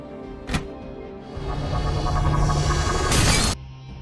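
A head slams into a glass mirror in a film scene, setting off a sharp, loud crash and shatter of breaking glass that swells briefly before cutting off, with a short thud just before it.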